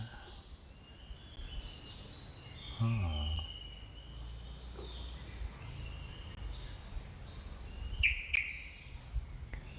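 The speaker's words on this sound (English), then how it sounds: "like these wonderful friends of ours, these birds" Faint birds chirping in the distance, scattered short calls and tweets over a quiet background, with one brief louder call near the end.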